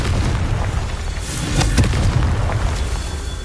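A Confringo blasting spell going off in Hogwarts Legacy, a loud, sustained booming explosion with rumbling bursts that swell in the middle and keep roaring throughout.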